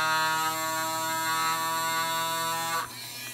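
Gyroscope spinning at about 12,000 RPM, a high steady whine with a buzzing tonal hum held for nearly three seconds, then dropping in pitch and level as it slows.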